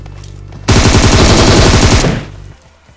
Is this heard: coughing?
no